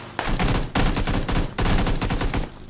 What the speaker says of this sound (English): Gunfire being exchanged.